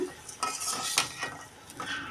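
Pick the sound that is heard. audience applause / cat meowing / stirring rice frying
stirring rice frying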